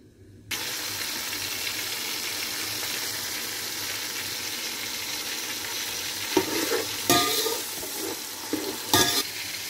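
Onion, tomato, ginger and green chili hit hot oil after a short silence and break into a loud, steady sizzle. Louder stirring clatters and scrapes rise over the frying near the end.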